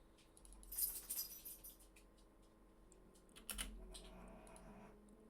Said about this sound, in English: No, don't stand on the keyboard. You start typing commands